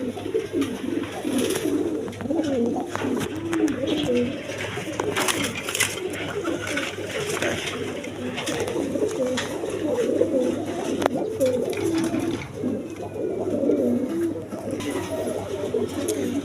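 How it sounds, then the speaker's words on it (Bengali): Several pigeons, a pair of Racer breed among birds kept for sale, coo continuously in overlapping low murmurs close by, a steady dense chorus with no talk. "এখানে এক পেয়ার রেশার কবুতর আছে দেখেন"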